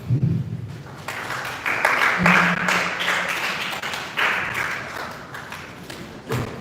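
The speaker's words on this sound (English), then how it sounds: "Okay, clap for yourselves once again." Students at a school event clap for themselves, a scattered burst of applause with taps and thumps rising and fading in waves, with a brief voice midway.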